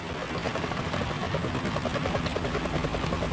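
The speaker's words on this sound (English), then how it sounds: "Is that a chopper I just heard?" Helicopter in the Metal Gear Solid game droning steadily with a continuous rotor chop, moderately loud and constant throughout with no talk.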